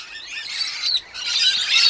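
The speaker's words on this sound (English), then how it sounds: "I probably had at least 50 rainbows and probably 20 to 30 musk lorikeets" A flock of rainbow and musk lorikeets in apple trees gives dense, shrill chattering and screeching, many birds calling at once, loud and continuous with a short dip midway.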